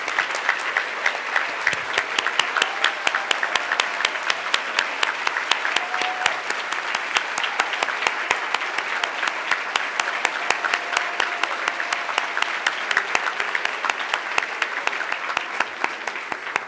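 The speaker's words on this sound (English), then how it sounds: "Let's give them a round of applause." A large crowd at a Women of Achievement event applauds the honorees, a long, steady wash of many hands clapping with only faint voices beneath it.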